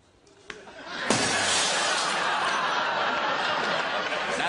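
A BlackBerry mobile phone is booted and smashed in a comedy sketch, with a thump, then a loud crash of shattering glass and debris. A sustained burst of audience laughter follows and drowns out everything else.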